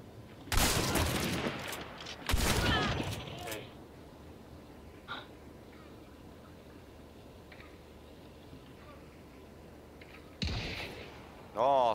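Gunfire in Hunt: Showdown, a few sharp, loud shots spaced seconds apart, echoing over quiet ambience, with fainter distant cracks between them.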